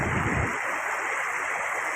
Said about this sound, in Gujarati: અને આમથી પાણી આવે ઓજત નદીનું